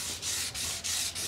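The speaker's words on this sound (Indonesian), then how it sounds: "Nah, nih pertama pakai amplas yang 400." A motorcycle wheel rim is rubbed down with 400 grit sandpaper, giving four quick, close, rasping back-and-forth strokes with no talk over them.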